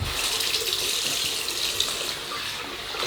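Water runs steadily from a tap into a sink, a close, even splashing rush with no voices.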